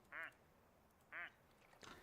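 Two short, squeaky quacks from a plastic toy duck in the video game Alisa: The Awakening, evenly spaced about a second apart over faint background hiss, with a softer sound at the end.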